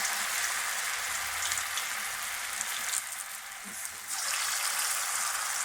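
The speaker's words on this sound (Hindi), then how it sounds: "ऑयल हमारा गर्म हो गया है, अब हम इसमें डालना स्टार्ट करते हैं पकौड़े" Pakoras sizzling steadily in hot oil for a curry-pakora dish, a continuous broadband frying hiss that dips briefly midway then returns, close and fairly loud with no talk.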